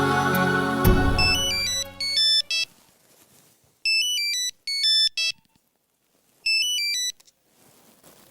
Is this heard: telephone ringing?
yes